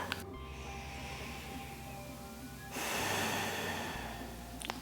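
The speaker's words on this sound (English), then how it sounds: "As it dissipates and relaxes, then take a breath." A slow, steady breath during a somatic yoga chest-release exercise with a yoga block: a soft, airy exhale fills the middle of the clip, close to the mic, with no talking.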